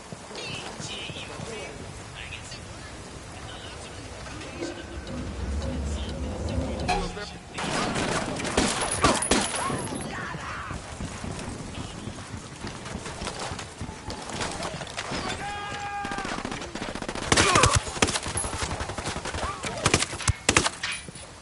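Bursts of gunfire in the video game Ghost Recon Wildlands, with dense, loud volleys around the middle and another sharp burst near the end over a continuous background of game ambience and voices.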